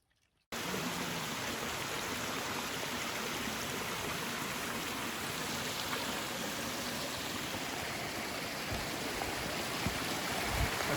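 A mountain stream flows steadily along a hiking trail near Pip Ivan in the mountains, heading down into forest. The rushing water is a constant, close wash of noise for the whole stretch, with no voices.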